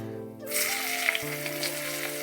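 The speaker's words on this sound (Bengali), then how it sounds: "আমি এখানে কেটে রাখা পেঁয়াজ কুচি সেটা দিয়ে দিচ্ছি" Chopped onion drops into a hot pan and immediately breaks into a loud, steady frying sizzle that continues close up to the end, with no talk.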